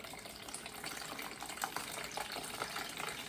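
Coconut water poured into an airtight container, a steady close liquid splash and gush running evenly without pause.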